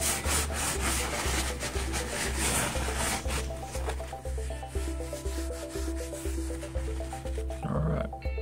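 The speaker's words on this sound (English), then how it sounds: "now I'm going to wipe the whole thing off." A cloth rubs back and forth over a forged steel ribbon candle holder in steady repeated strokes, close and fairly loud, with a low humming drone underneath and no talking.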